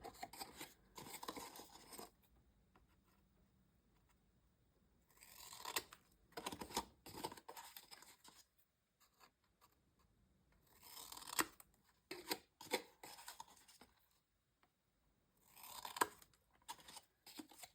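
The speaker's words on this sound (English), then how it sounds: "fold your side in and just snip" Scissors snip paper to miter the corners of a handmade album cover, giving several short bursts of crisp cutting and rustling separated by quiet pauses.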